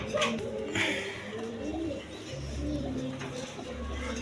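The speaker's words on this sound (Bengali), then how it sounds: "এখানে আরেক পেয়ার কবুতর আছে" Pigeons in a coop coo softly in low, repeated throaty phrases over a faint background hum, with no clear talk.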